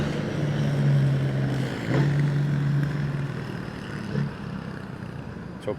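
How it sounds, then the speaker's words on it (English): A big truck's engine runs steadily nearby, a smooth low drone with slight swells in loudness throughout, no speech. "Truck sounds smooth, yeah"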